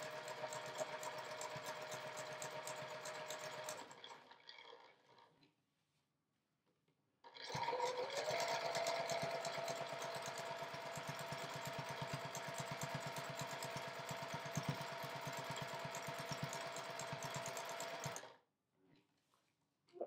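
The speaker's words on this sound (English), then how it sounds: "I'm going to put the stitch length back up around 3 for top stitching around here" A sewing machine top stitches a quilt project with a rapid, even mechanical chatter, stopping briefly around the middle before running again and then cutting off, close and steady.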